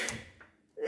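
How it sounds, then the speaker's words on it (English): A single sharp sneeze from a teacher during a grade 5-6 lesson on percents, a short bright burst near the start that fades into near-silence before a breathy sound rises again at the end. "I'm sorry, excuse my sneeze."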